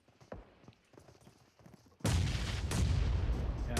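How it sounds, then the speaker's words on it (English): A grenade detonates in PUBG Mobile during a North American pro league match: after a couple of seconds of quiet, scattered ticks, a sudden loud, booming blast erupts and rumbles on heavily to the end. "Oh, the nade's coming in."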